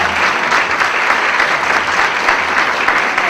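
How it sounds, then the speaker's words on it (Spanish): A crowd at a rock concert applauds loudly, sustained dense clapping throughout without pause. "Un aplauso para él, por favor."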